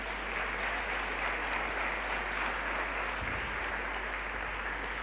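Audience applause at a morning session of a conference, heard as a steady, dense wash of clapping throughout, fairly distant and even, with no one talking over it.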